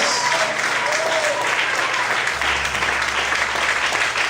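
Loud, sustained applause fills a church service, a dense, even wash of clapping that carries on unbroken from start to finish.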